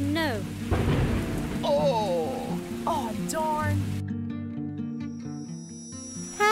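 A thunderstorm with heavy rain rumbles and hisses loudly behind voices and swooping tonal sounds, then cuts to a quieter stretch of tones near the end.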